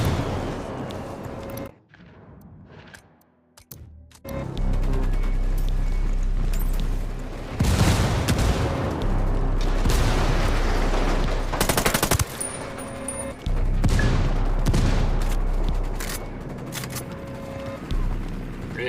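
Gunfire from the video game Ghost Recon Wildlands: loud, sustained bursts and booms of automatic fire and explosions, with brief lulls, fill most of the span, mixed with game noise and some speech.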